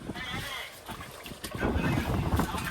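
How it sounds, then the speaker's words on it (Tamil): Strong wind buffets a boat on rough, churning sea, a steady roaring rush with gusty swells that builds louder toward the end, heard alone without talk. "காற்று எப்படி இருக்குன்னு பாருங்கள் கடலில் எப்படி கொந்தளிச்சுக்கிட்டு இருக்குன்னு பாருங்கள்"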